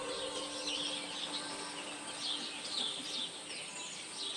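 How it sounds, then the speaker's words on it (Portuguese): Birds sing and chirp faintly in a summer landscape in Grand Teton, with scattered calls over a quiet, steady background that may include insects. "Pássaros cantando, insetos zumbindo"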